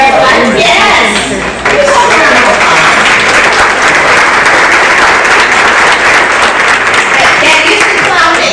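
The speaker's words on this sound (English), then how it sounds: "get used to clapping, because you will clap today" Loud, full applause from a crowd of a few hundred at a public event, dense continuous clapping after a brief dip near the start, with a voice briefly audible within it.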